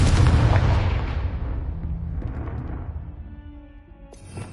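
In Hogwarts Legacy, a Confringo spell blast lands as a single heavy boom, then rolls off into a long fading rumble that ends with a short bright chiming tone.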